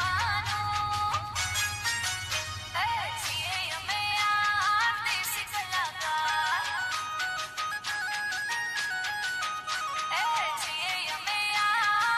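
An electronic melodic ringtone from a mobile phone plays continuously and fairly loud nearby, its bright repeating notes filling the whole stretch with no talk over it, in a Hindi TV serial scene.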